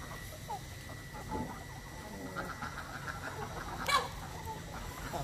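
Chickens, including black hens, cluck at a rural market in Tuyen Quang, scattered soft clucks over a busy outdoor background with one sharper call near the end.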